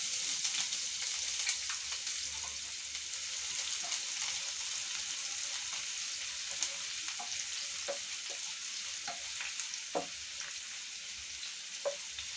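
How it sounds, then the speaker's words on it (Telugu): Green chilies and onion fry in hot oil for vegetable noodles, a steady close sizzle with intermittent soft crackles and stirring taps throughout, with no talking. "మిర్చి వేస్తున్నానండి. ఆనియన్ వేస్తున్నాను."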